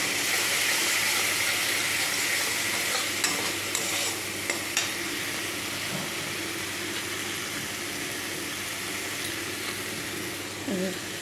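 Spice paste fries in oil in a home kitchen, releasing its oil as it cooks: a loud, continuous sizzle with stirring and a few sharp utensil taps, close up throughout.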